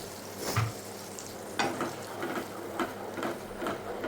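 A ground spice paste, loosened with a splash of water, fries in a pan with a soft continuous sizzle broken by several sharp scraping stir strokes, close and with no talking.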